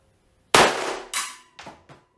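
A Kimar 92 blank pistol fired with blank cartridges outdoors: one loud sharp crack, then a second shot and two quicker, fainter reports, each ringing briefly before cutting off, with no talking.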